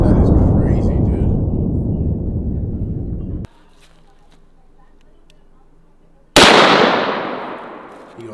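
Two enormous booming blasts from a 4 bore rifle, each a sharp loud crack followed by a long rolling decay, separated by a few seconds of near silence.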